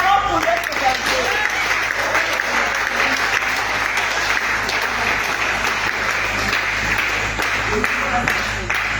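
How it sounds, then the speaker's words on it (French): A church congregation at a prayer assembly breaks into sustained applause, a dense steady clapping that fills the room from start to finish, with voices faintly mixed in. "Acclamons pour notre berger."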